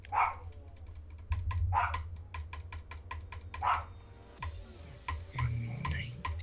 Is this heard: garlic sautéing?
no